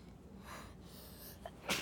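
A single sharp sneeze bursts out near the end, close and loud after a stretch of quiet room noise.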